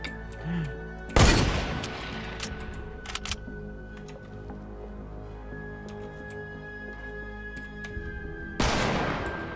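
Two loud, sharp sniper rifle shots ring out in Fortnite Battle Royale, several seconds apart and each trailing off in a long echoing decay, with fainter clicks and game ambience between them.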